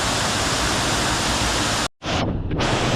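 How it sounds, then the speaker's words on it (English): Waterfall rushing close by, a loud, dense, even roar of falling water that briefly drops out and returns, with a hiss of spray continuing steadily afterward. "You get like the spray of the waterfall on you occasionally."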